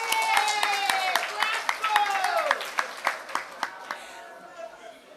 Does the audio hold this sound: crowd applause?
yes